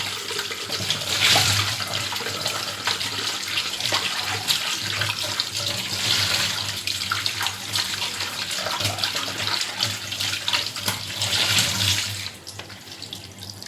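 Tap water runs steadily over cut pieces of Bhola fish as they are washed. The rushing stream is loud and continuous, then cuts off near the end.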